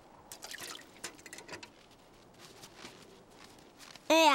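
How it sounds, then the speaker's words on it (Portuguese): Sap drips from a wild oak tree in a winter cartoon scene, heard as soft, scattered drips and small liquid taps at low volume before a voice suddenly breaks in at the end. "Parece água, mas é seiva que vem de dentro deste carvalho silvestre."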